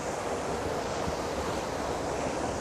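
Falling water foams and churns at the base of a drop, a steady dense rushing roar that stays even and close throughout with no voices.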